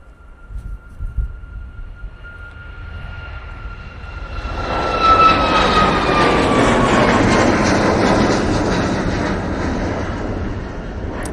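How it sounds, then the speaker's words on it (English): A Ryanair Boeing 737 MAX 8 takes off from Manchester Airport bound for Faro, its engines building from a distant whine with a rising tone into a loud, broad roar that holds steady and then begins to fade. "Ryanair 737 MAX 8 going off to Faro now."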